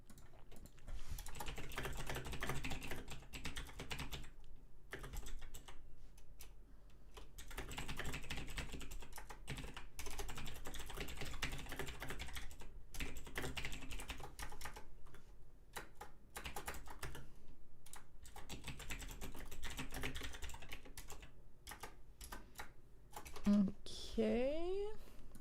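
Steady, continuous typing on a computer keyboard, rapid clicking with brief pauses throughout, close to the microphone, with a faint voice at the very end.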